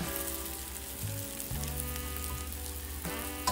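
Fried rice sizzles steadily in a hot pan, a soft continuous crackle and hiss at moderate distance with a few brief stirring bumps and no talk.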